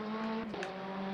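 Supercars racing in Le Mans Ultimate at Portimao, with a loud, sustained engine drone holding a steady pitch up close and a brief dip partway through.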